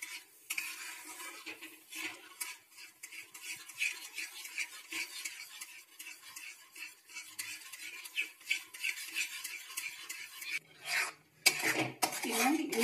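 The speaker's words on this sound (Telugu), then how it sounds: "దీని బాగా కలుపుతూ ఉండాలి మిశ్రమం అంతా దగ్గర అయ్యే వరకు" A spoon scrapes and stirs a thick kanvi mixture in a pan in steady, continuous strokes, close and moderately loud, with a brief louder clatter near the end and no talking.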